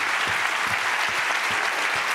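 Dense, steady applause fills the room from a conference audience in La Rochelle, sustained at an even level with a few soft low thumps and no voices.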